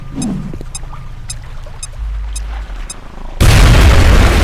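Grenade explosion in the video game XCOM Enemy Within: after a few faint clicks and soft game sounds, a loud broadband blast erupts near the end and rolls on as a dense, sustained roar.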